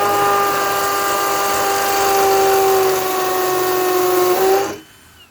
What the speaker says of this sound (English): So I'm going to drill all these 4 rivets out to start.